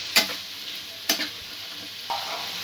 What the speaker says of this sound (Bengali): নুনটা ভালো করে উপকরণগুলোর সঙ্গে মিশিয়ে নেব।